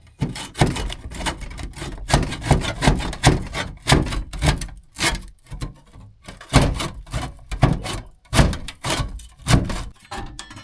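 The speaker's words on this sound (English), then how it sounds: "I'm going to use the saw to basically cut the adhesive" A laminate flooring saw cuts through adhesive on a motorhome's entrance door, with about twenty close, rough back-and-forth strokes scraping and thunking in an uneven rhythm.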